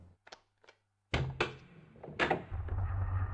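A heavy stone door grinding open in the Tomb Raider II video game, starting with a couple of faint clicks, then solid thunks and a loud scraping rumble that keeps going to the end.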